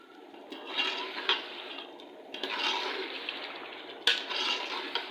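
Washed potatoes tipped into a pot of chicken cooking with yogurt: clattering knocks of pieces against metal, wet splashy tumbling and scraping, with sharp clanks standing out near the close.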